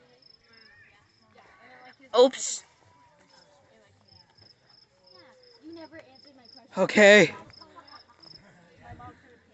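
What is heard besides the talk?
cricket chirping at night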